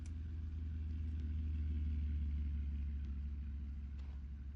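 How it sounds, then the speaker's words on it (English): Muscle car in the Car Mechanic 21 video game, a deep steady engine rumble that holds close and even throughout with no talking. "I heard a muscle car go behind me"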